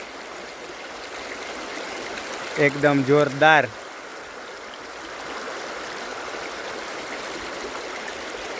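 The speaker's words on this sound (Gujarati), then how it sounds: "નદીમાં પાણીનો પ્રવાહ" Constant rushing of river water flowing, a broad steady wash, with a person briefly speaking over it.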